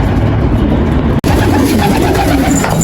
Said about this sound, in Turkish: Arkadaşlar güvercinimizi yakaladık.